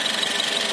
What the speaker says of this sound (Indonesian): iki ya jenenge mesin iki suara ketukan templar